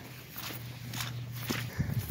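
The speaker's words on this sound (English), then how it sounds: "You guys can hear the mush as I'm walking." Footsteps squelching through deep mud on a shooting range, a few soft wet steps close to the recorder, with outdoor background noise.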